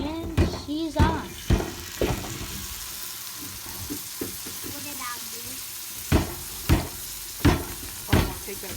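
Partridge legs sizzle in a hot pan with Mountain Dew, a steady frying hiss beneath repeated clattering knocks and stirring, while people talk nearby.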